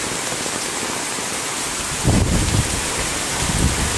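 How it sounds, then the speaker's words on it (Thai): Heavy rain pours down steadily during a rainstorm on an election day in Thailand, a dense broadband hiss that swells louder about halfway through with low gusty rumbles, nearby and with no voices. "เสียงฝนได้ชัดครับ"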